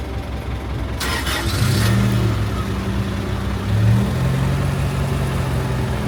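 An FSO Polonez car engine cranks briefly and catches, then settles into a steady, close idle with a low droning hum and a slight rise in revs near the end, with no voices.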